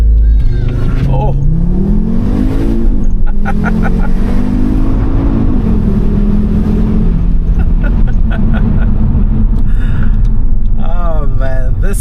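A 2014 Audi RSQ3 compact SUV launches hard with launch control, its engine revving loud and close and climbing through rising pitch sweeps as it pulls away, with an occasional voice over the roar.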